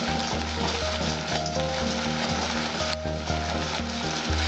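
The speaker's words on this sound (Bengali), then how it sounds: "এরকম ভাবে গুড়টা জাল দিতে হবে খানিকক্ষণ টাইম নিয়ে" Jaggery bubbling and sizzling in a pan over heat while being stirred, a steady close frying hiss with faint scraping of the spoon throughout, no talking.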